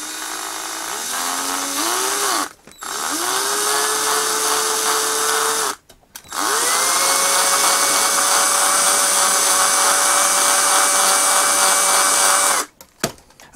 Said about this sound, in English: Okay, so I've drilled that hole on both sides